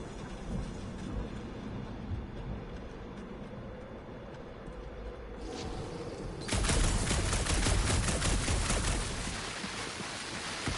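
Rapid gunfire in Guardians of the Galaxy starts faintly under ambient combat noise, then breaks into a loud, sustained burst of fast repeated shots lasting several seconds before easing off.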